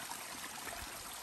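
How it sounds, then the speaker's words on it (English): A creek flows beside a hiking trail on Mount Mansfield, Vermont, producing a steady, soft, bright rush of water that stays even and continuous with no voices. "Little stop at the creek."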